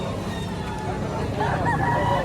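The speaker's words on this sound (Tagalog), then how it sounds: "Magandang manok." Gamefowl and chickens at a poultry market in Lipa, Batangas, cluck and call amid a busy, noisy background, with faint talk mixed in.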